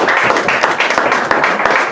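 Congregation applauding during a church service, a short burst of close, brisk clapping from many hands with a steady rhythm.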